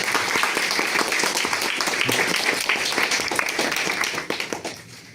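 An audience at a podcast launch event gives a dense, energetic round of applause that tapers off into a few last claps at the end.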